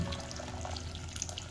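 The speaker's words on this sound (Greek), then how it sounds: "500 ml λοιπόν βάζεις σε ζεστό νεράκι" About 500 ml of hot water pours into a bowl, a steady close splashing trickle that runs continuously, alone with no voices.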